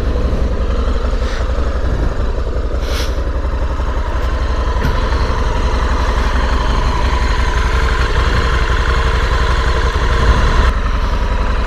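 A Honda Africa Twin motorcycle engine idles close by in a loud, steady low throb, running evenly and unbroken with a few faint clicks and knocks over it, with no speech.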